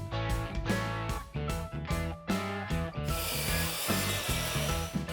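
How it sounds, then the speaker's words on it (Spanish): Miter saw cutting planed 2x3 pine boards: a loud, close, whining motor with several quick biting bursts, then a sustained harsh grinding cut through the wood, with no speech. "los cortaremos con la sierra engleteadora en 6 trozos de 92 centímetros"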